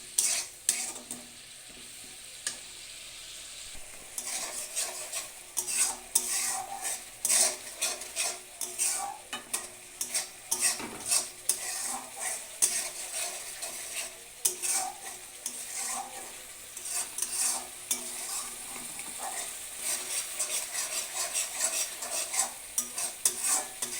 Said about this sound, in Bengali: এটা ততক্ষণ কষাতে হবে যতক্ষণ না তেলটা ছেড়ে দিচ্ছে